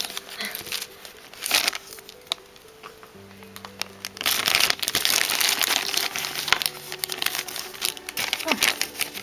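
Crinkling plastic bag holding a Pokemon Happy Meal toy, handled up close, with bursts of rustling and crackling that swell in the second half, plus a few faint tonal sounds.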